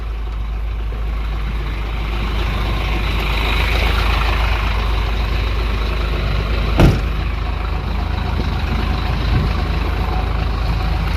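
Isuzu Giga truck with its engine idling, a steady low rumble held at an even level throughout, with one brief sharp knock partway through and no talking.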